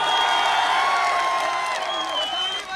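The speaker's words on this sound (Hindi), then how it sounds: "जोरदार ताली से करिए भाई।" A crowd at a political rally in Badli, Bihar cheers and shouts loudly, a dense continuous roar with whoops and a whistle-like tone rising through it, no break in the noise.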